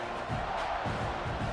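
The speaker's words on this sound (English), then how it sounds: "They're set to kick it off, and this crowd now ready." Stadium crowd in EA Sports College Football 26, a steady distant roar of many voices with faint swelling cheers, moderately quiet and continuous.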